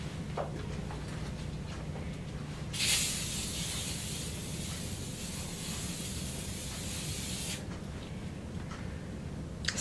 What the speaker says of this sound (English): spray the inside with the dirty side bottle